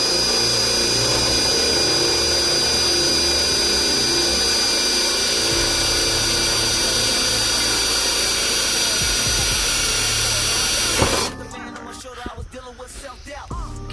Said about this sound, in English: Put the drill bit into the smaller hole.